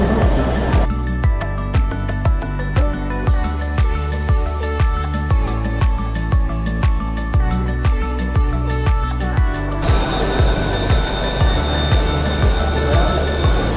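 Mumbai Metro Line 7 train rolling along with a steady, regular clacking of wheels over rail joints, close and loud, the rhythm shifting into a smoother hiss with a high whine near the end.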